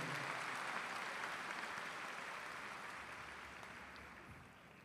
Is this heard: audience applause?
yes